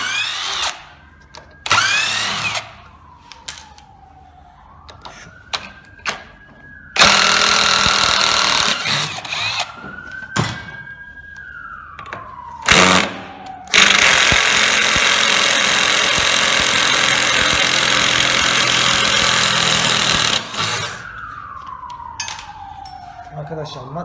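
Einhell cordless impact driver running screws in repeated bursts, loud rattling hammering whine lasting several seconds each with short pauses between, close to the microphone; a voice talks in the gaps.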